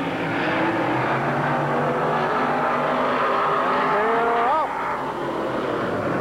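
Race cars roar around an oval track in a continuous loud engine drone with a rising, bending pitch as a car passes, while a commentator's voice runs underneath.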